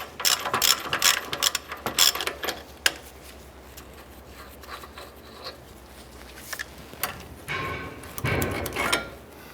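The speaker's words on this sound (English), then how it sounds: "we use our ratchet to remove that." Ratchet backing off a front sway bar link nut on a 2004-2009 Dodge Durango, with rapid close clicking pawl bursts in quick repeated strokes, pausing midway, then resuming with rubbing metallic handling.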